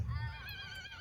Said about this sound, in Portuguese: Num belo dia, um cavalo